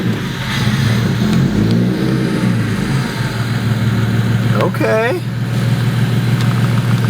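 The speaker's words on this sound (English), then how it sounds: "I'm going to go ahead and start the car." A tuned 750-horsepower BMW 135i with a fault sits running at a steady, loud idle, its low engine drone continuous throughout while a person speaks briefly near the end.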